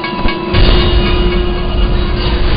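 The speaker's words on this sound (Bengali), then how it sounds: "ট্রেন তো ছেড়ে দিচ্ছে" A train pulls away from a station in a steady, loud rumble of rolling railcars, with no voices over the continuous mechanical noise.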